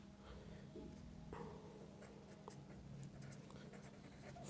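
Hand writing on paper during a maths lesson, faint scratchy pen strokes in short intermittent bursts against a quiet room hum.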